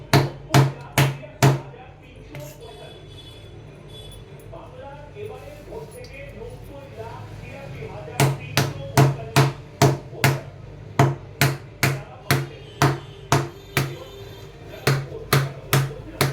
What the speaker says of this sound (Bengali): এই যে এইভাবে কেটে নিচ্ছি।